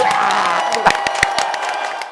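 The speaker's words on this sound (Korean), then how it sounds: "박수 함성!" Audience at a Korean comedy show breaks into applause and cheering after a comedian introduces himself, a dense, loud wash of shouts with scattered sharp claps.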